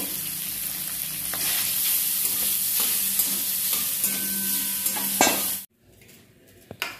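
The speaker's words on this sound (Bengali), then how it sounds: "পনিরগুলো হালকা করে ভাজা হয়ে গেছে" Paneer pieces sizzle lightly in hot oil in a pan, a steady close crackling hiss with occasional utensil scrapes and stirring clinks, then the frying abruptly cuts away to near quiet with a couple of faint knocks.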